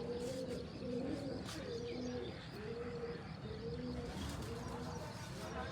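Rain-soaked pigeons give repeated low cooing phrases in a steady rhythm, set against a constant hiss of falling rain.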